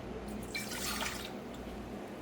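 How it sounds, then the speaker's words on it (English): Water pours into a mixing bowl as the first step of bread dough, a soft, fairly faint trickle and splash lasting a couple of seconds. "we gonna go in with the water first"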